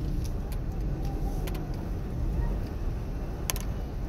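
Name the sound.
road traffic near church and cemetery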